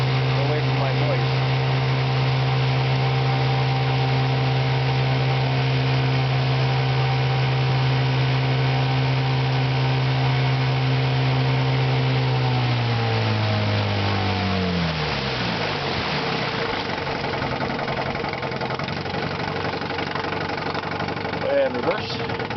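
A 1959 Johnson 5.5 hp outboard motor running nearby with a steady buzzing idle hum, then its pitch slides lower and settles into a rougher, quieter running note.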